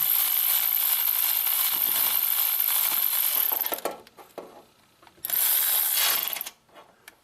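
Wrench removing bolts from a Subaru engine during teardown, fast continuous ratcheting clicks close up, stopping briefly with a few metallic taps, then a second burst of ratcheting.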